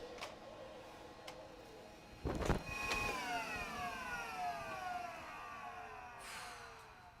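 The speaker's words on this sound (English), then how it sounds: "Cassandra, park floor cleaner in dock. The floor cleaner is docked." A robotic floor cleaner in a smart home driving back into its dock: a few light clicks, then a thump followed by a whirring motor whine that slowly falls in pitch and fades, with another soft click near the end.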